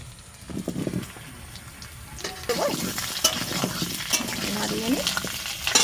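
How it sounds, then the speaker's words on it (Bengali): Potatoes frying in hot oil in a home kitchen, a steady sizzle with stirring scrapes that grows louder midway, close and continuous, with faint talk in the background. "আলুগুলো ভেজে নেব, তেল গরম হয়ে গেছে।"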